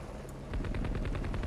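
A rapid burst of helicopter machine gun fire in the game Heliborne starts after a brief pause, rattling in a fast, even rhythm amid heavy game-like rumble.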